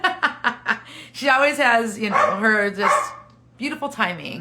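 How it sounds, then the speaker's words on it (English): A dog barks in short bursts near the start and again toward the end, while someone talks through the middle, her voice and light laughter overlapping the barks. "Sorry about my dog barking."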